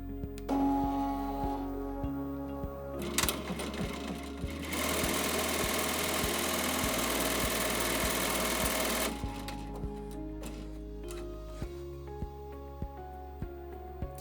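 A ZSK embroidery machine stitches a tack-down onto tearaway backing, a rapid mechanical needle clatter running steadily with a brief louder buzzing stretch, close and alone without talk.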